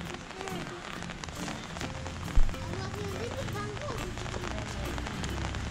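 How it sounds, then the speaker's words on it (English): Rain falling on a lakeside street in Pokhara in the evening, a steady dense hiss of drops with one brief sharp knock partway through. "it seems rain won't support us because it's raining"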